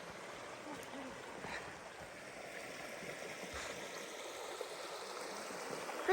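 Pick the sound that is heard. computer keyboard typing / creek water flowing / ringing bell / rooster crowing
creek water flowing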